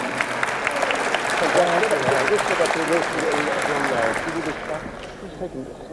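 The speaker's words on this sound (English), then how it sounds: "Round of applause for Tony." Applause from a luncheon audience honoring the 2018 Volunteer of the Year at an annual awards event, a steady dense clapping that holds for several seconds, mixed with voices, then fades toward the end.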